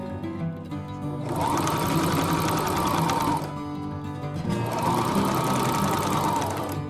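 A sewing machine stitching a fabric hem runs in two fast, steady bursts of rapid mechanical stitching, close and loud, separated by a brief pause.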